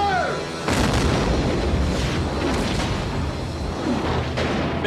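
Ironclad warship's cannon firing in a Civil War naval battle, a deep heavy boom followed by rumbling reverberation, with shouted voices and battle noise around it.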